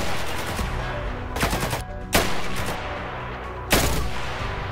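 Bursts of gunfire from a wall-penetrating gun in the video game Hellmet: loud rapid shots in several clusters, with sharp individual blasts near the middle and end, alone with no talking.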